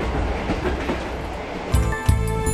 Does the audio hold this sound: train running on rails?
yes